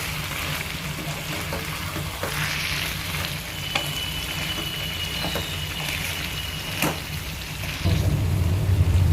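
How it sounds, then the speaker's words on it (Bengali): A pan of mocha ghonto, a banana flower curry with sugar added, being stirred over steady sizzling frying, with scraping strokes of the spoon against the pan. "আবার সবকিছু ভালোভাবে নেড়েচেড়ে মিশিয়ে নেবে।"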